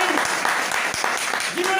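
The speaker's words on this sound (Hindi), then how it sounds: "ताली" Audience clapping at a business seminar, brief applause that comes through under and around speech.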